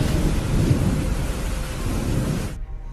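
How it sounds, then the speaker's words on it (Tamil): Steady rain pours down with deep thunder rumbling throughout, loud and continuous, then cuts off abruptly near the end. "மழை பெய்தது."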